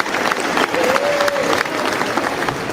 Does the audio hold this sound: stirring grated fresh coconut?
no